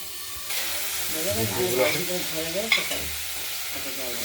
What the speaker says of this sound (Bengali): ঢাকা দিয়ে দেওয়া হলো, ভাজা হতে থাকুক ব্রোকলিগুলো।